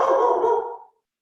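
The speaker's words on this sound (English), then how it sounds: "That's my dog." An indoor dog barking in a short burst of sharp, close, loud yaps that trail off into silence.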